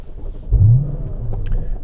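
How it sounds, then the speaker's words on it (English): A Mercedes SLK R172 engine starts up in dyno mode, a short cranking burst swelling into a low rumbling idle that settles and holds, close and loud. "So once that's on, start the car."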